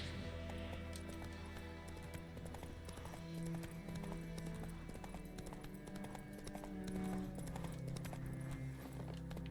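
Galloping horse hooves in The Witcher 3: Wild Hunt, a steady rapid clip-clop running throughout over constant game ambience and music, with no talk.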